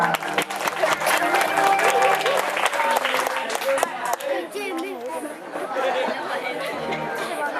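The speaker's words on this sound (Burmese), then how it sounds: "ကျေးဇူးပြုပြီးလက်ခုပ်တီးအပ်ပေးကြပါ" Audience applause at a stage performance, sustained and fairly loud, mixed with crowd chatter and musical tones throughout.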